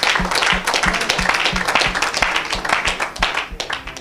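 A church congregation claps in a steady rhythm during a lively French-language worship service, the beats close and loud with voices and noise from the crowd mixed in.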